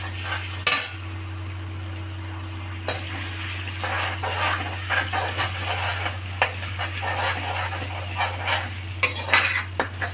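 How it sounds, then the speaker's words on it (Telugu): Ginger garlic paste fries in a pan with a steady, close sizzle, broken by scraping stirs and occasional clinks of a metal spoon against the pan. "పచ్చి వాసన పోయే వరకు వేయించుకోవాలి."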